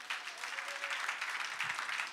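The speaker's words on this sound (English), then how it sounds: "Give the Lord a hand clap tonight." A church congregation clapping for the Lord during a worship service, a soft, steady patter of many hands heard from a distance for about two seconds.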